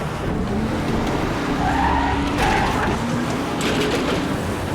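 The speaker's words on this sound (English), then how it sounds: "a car chase." Car chase from the TV show Fringe, with skidding tires squealing over a loud, continuous engine roar that stays close and dense for the whole stretch, no talking.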